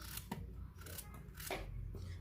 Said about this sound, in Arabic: غنقطع الخيار هكا طريفات صغار